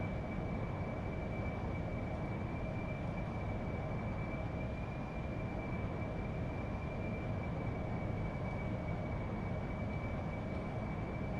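Harrier jet hovering in DCS World, a steady heavy engine roar with a thin sustained whine riding above it, constant and unbroken throughout.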